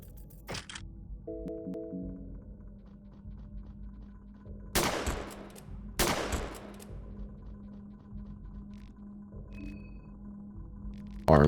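Two loud, sharp gunshots about a second apart ring out in Fear & Hunger 2: Termina, set against a quiet, low ambient hum with faint clicks before and after.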